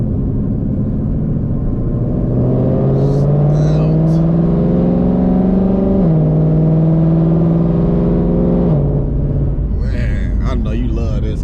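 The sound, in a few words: car engine revving with aftermarket headers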